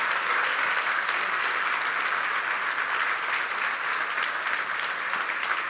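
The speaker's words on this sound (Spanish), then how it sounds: "estos adolescentes merecen un fuerte aplauso" A church congregation applauding teenagers during a service, a steady, moderately distant blanket of clapping from many people that stays even throughout, with no voices standing out.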